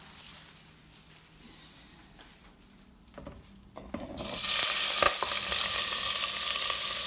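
Chopped ingredients for arroz con gandules hit a hot pot and burst into a loud, steady sizzle that starts about halfway through and keeps frying on after a quieter stretch of kitchen handling.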